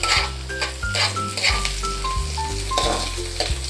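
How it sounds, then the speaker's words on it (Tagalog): Garlic and onion sauté in a hot pan for a mussel dish, a steady close sizzle and crackle with light stirring, over faint background music and no voices. "isabay na natin ang bawang sibuyas"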